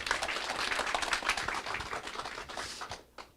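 An audience at a company live event claps in a brisk, dense burst that thins and fades out near the end, fairly close and without talk.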